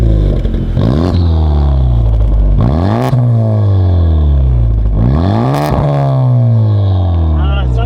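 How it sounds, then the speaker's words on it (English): A Honda Civic Type R engine is revved repeatedly in loud, rising and falling sweeps, several blips climbing and dropping in pitch over a steady close-up drone. "Give it some revs."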